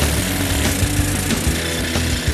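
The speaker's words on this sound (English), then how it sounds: "We drill our hole, and we're still standing." Power drill boring a hole at a dizzying height on a structure, a steady loud grinding whir running continuously for the whole stretch with slight rhythmic variation, no voices over it.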